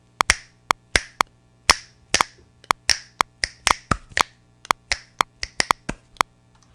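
Finger snaps recorded in a studio, about two dozen crisp, close clicks in an uneven rhythm, sometimes paired in quick doubles, over a faint low hum, with no voices.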